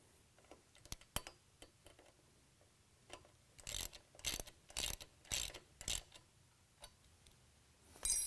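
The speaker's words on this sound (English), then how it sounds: "I'm going to put my mounting bolt in here, and I'm going to tighten this down." A mounting bolt on an oar mount is tightened with a ratchet, starting with scattered faint clicks and then a run of quick, close ratcheting bursts in a quiet space.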